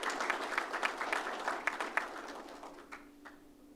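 A crowd claps at an Albanian Independence Day flag raising that marks a sister city's 15th anniversary. The steady applause is fairly close and fades away over the last second.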